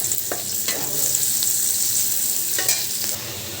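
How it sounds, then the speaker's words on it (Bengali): Onion, garlic and a bay leaf fry in hot oil previously used for frying fish, a loud steady sizzle broken by a few sharp spatula scrapes and stirs. "দিলাম একটা তেজপাতা আর পেঁয়াজ রসুনটা দিয়ে নেব। এখন সুন্দর করে ভেজে নেব"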